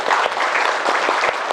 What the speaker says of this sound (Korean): 오늘 되게 박수 한번 주세요.